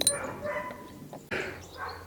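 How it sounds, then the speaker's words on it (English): Dogs next door bark in short, excited bursts, a sharp yelp near the start and another loud burst around the middle, heard at a moderate distance over a quiet outdoor backdrop. "next door's dogs barking like lunatics"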